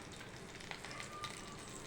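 Oil sizzling steadily in a pan just after being poured in for frying seasoning with urad dal, chana dal and sesame seeds, a soft continuous crackle close by with faint pops.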